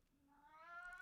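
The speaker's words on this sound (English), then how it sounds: "My cat's gonna go off in a minute." A house cat meows once, a rising, drawn-out call that grows louder toward the end and ends in a sharp burst, heard close in a quiet room.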